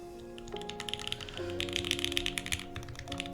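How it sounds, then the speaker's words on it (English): Quick, steady key presses come from a custom-built TGR Dolice mechanical keyboard with linear switches. The clacks are close and clear over a faint background hum. "It's a really good sounding keyboard with linears."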